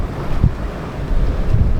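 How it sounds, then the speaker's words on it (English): Wind gusts up to 20 knots across the beam of a sailboat at sea, buffeting the microphone with steady roaring, low thumps and water rush, close and loud, with no talking. "the wind is currently on our beam, gusting up to 20 at the moment."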